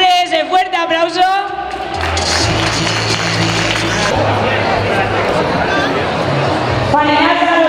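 A crowd at a Domingo de Piñata prize presentation bursts into sustained applause and cheering, a dense wash of clapping and shouts lasting several seconds, with an announcer's amplified voice just before and after.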